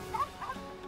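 A dog in the video game Sword and Fairy 5 Prequel gives two short, high yips close together over a steady game music and ambience bed.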